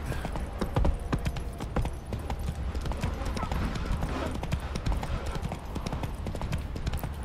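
A horse in the video game The Witcher 3 trots and gallops with quick, steady hoofbeats, moderately loud, while a player talks over the game sound.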